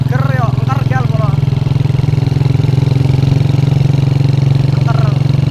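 Motorcycle with a loud aftermarket Altan exhaust idling close by, a steady throbbing low rumble with even pulses, while people talk over it at times.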